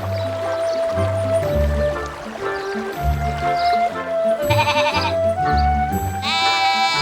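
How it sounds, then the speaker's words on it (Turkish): Cartoon sheep bleat repeatedly over a steady background of soft music, several calls in a row at close range. "Çitlerden atlayan koyunlar."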